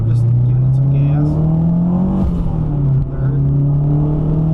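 A car pulling away and accelerating through second gear, the engine rising in a steady loud drone, dipping briefly at a shift, then pulling again under light throttle.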